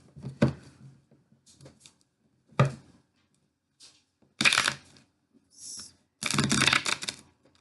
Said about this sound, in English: Let's get a good shuffle on these.